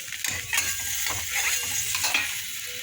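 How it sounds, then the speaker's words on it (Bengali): Hot water poured into sizzling oil in a pan while cooking a fish curry with fried fish and eggplant, giving a steady loud hiss and bubbling sizzle with occasional stirring scrapes, no talking. "এবার ওর মধ্যে আমি অল্প একটুখানি গরম জল দেবো"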